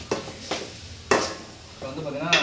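Onion and tomato sauté in oil for gobi manchurian: a soft sizzle under four distinct scraping stirs of a spatula against the pan, spaced irregularly and close by.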